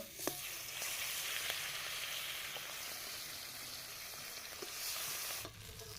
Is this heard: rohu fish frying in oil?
yes